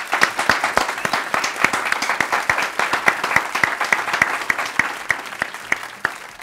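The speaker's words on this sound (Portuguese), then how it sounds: "cadê os aplausos?" A sharp, evenly paced burst of clapping, distinct hand claps in a quick steady rhythm, close and fairly loud, lasting several seconds before trailing off.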